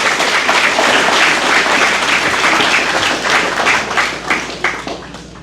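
An audience breaks into loud, dense applause to welcome a singer, the clapping sustained and even before thinning and tapering off near the end.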